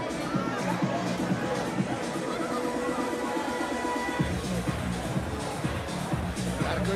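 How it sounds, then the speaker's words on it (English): A crowd murmurs and chatters outdoors at a street fight night on Duval Street in Key West, a steady hubbub of many voices with someone talking over it nearby. "Got a good crowd."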